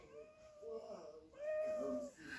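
A children's toy sound book plays a recorded cat meow, two drawn-out electronic mews at low volume with a home setting around them.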